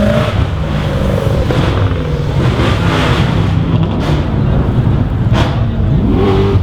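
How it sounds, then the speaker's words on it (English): Loud, continuous car engine roar, including an SRT Durango, at a street takeover with burnouts near the Javits Center, New York, revving exhaust rising and falling, a dense mechanical rumble filling the whole stretch without pause. "All you can hear is exhaust out here."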